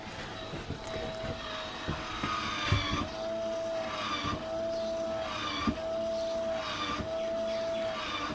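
Maxxair Maxxfan roof vent lid operator motor running without opening the lid, a steady electric whine in repeating cycles with faint clicks, close and moderately quiet.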